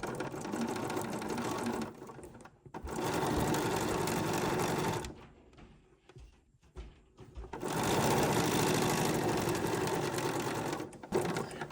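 A sewing machine chain-pieces quilt rectangles with the threads left unbroken between pieces. The stitching comes in bursts of steady, rapid whirring, broken by short quiet pauses where the fabric is repositioned.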